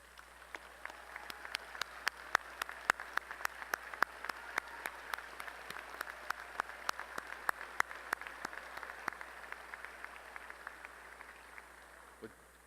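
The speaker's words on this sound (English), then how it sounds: "Would the parents of our candidates please stand and receive our applause?" A commencement audience applauds the candidates' parents at a College of Business graduation ceremony, producing steady, sustained clapping from a large crowd that fills the hall for about twelve seconds before fading at the end.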